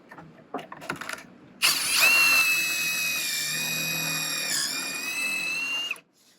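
A power drill whines loud and close as it bores pocket holes into wood, a sustained high-pitched spin following a few short clicks and bumps, then stopping abruptly.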